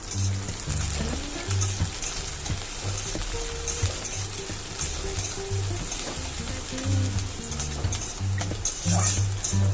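Flattened rice (chira) fries in a pan with a steady sizzle, punctuated by repeated scraping and stirring strokes at close range.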